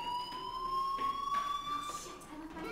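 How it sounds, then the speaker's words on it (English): A fire alarm in the video game Life is Strange rings continuously, a high steady electronic tone that is moderately loud and runs the whole time with no talking over it. "Hey, do you hear that fire alarm?"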